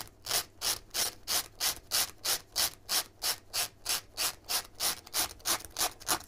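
Steady back-and-forth rubbing as the sharp edge of a razor blade is worn down, about three strokes per second in a regular rhythm, close and fairly quiet with no voices.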